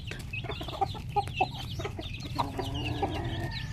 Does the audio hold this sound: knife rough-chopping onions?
no